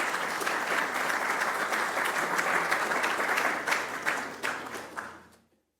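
An indoor audience applauds steadily as Senator Ted Cruz is welcomed, a dense wash of clapping that holds for about five seconds, then tapers off and stops.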